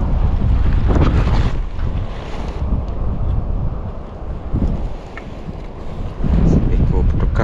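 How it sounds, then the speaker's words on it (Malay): Strong night wind buffets the microphone at a seashore, a loud continuous roar with gusting swells and water noise beneath, rising again sharply near the end. "Angin hari ni. Angin kuat. Padu. Suara angin mendayu-dayu."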